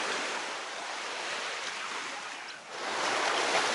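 Ocean surf rolls steadily onto Naples Beach in Naples, Florida, near the pier, a broad continuous wash of breaking waves with a brief lull before swelling again, with some wind across the microphone.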